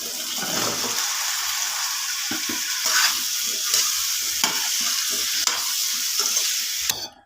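Drumsticks (moringa pods) are stirred and fried in a pan with chili powder, asafoetida and salt, giving a steady loud sizzle with repeated scraping and stirring knocks throughout.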